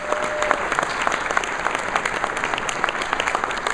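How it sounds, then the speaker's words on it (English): A civic State of the Community event audience gives a steady round of applause, many hands clapping together in a dense, even wash that continues throughout without speech. "would you please give them a round of applause for coming up with this brilliant idea."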